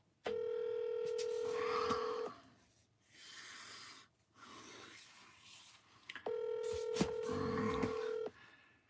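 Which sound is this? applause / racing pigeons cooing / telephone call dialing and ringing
telephone call dialing and ringing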